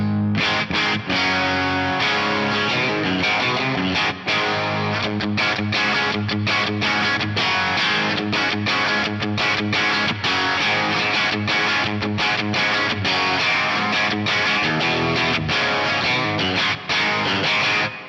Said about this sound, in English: So basically a Marshall in a box style distortion pedal